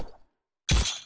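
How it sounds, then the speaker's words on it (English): A Fortnite pickaxe swipes quickly, first a faint whoosh, then a short gap of silence, then a loud bright glassy tink that rings briefly, alone without talking. "It's a very quick swipe, it sounds like, and then a little tink at the end."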